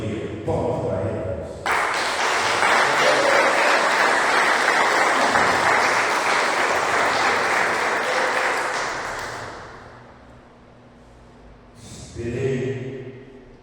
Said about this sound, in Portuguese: Palmas para ele.